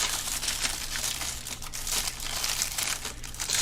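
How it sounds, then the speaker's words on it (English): Wax paper wrapping around a bag of action figure accessories crinkles and rustles steadily and close by, with continuous crackling and no talking. "Sound of wax paper coming through speakers"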